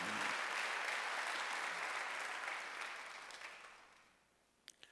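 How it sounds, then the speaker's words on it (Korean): A church congregation applauds during a Sunday worship service, a broad wash of clapping that gradually fades out toward the end, with a few last claps. "믿는 사람만 박수 한번 주세요"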